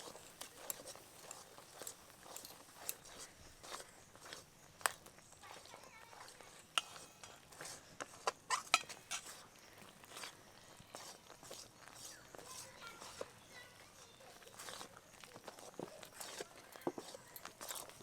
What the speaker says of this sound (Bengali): ঘি এবং তেলের মিশ্রণটা অল্প অল্প দিয়ে এভাবে নাড়তে থাকবো